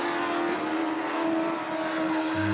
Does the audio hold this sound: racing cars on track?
yes